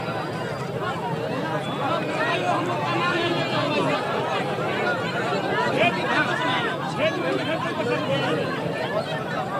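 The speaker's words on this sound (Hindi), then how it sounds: "अच्छा, भीड़ इतनी लग चुकी है" Large, dense crowd gathered outdoors at a protest scene, a continuous babble of many overlapping voices near and far, steady in loudness with no single voice standing out.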